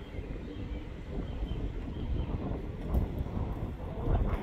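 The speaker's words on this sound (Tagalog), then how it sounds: "Oh, hangin." Steady low rushing wind buffets the microphone, with gusts swelling and fading, especially near the end; no other clear sounds stand out.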